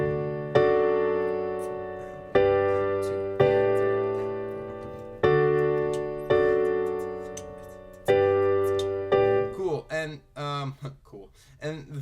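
The chord progression of a song is played on piano, five or six sustained chords struck in a slow, even rhythm and each ringing out, ending in quicker, lighter notes.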